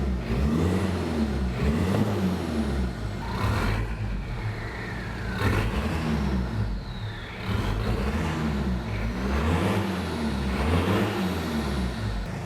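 An old Toyota Hilux Surf diesel with only a bullet muffler on the exhaust revs repeatedly up close, rising and falling in several gruff, throaty blips over about twelve seconds.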